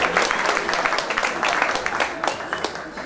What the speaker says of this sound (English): So I'd like to ask you your warmest applause for Ianus Keller.